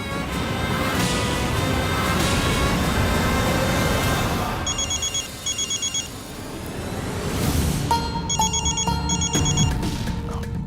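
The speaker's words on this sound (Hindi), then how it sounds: "तुम्हारा फोन बज रहा है, देखो ना इतनी रात को कौन कॉल कर रहा है" A mobile phone rings at night with bursts of electronic ringtone beeps repeating in pairs, heard over a dramatic background music bed that swells and fades.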